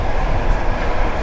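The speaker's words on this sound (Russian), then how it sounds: "Поезд едет действительно быстро." A fast-moving passenger train in Uzbekistan rumbles steadily from inside a compartment, a loud, dense rolling noise with no pauses.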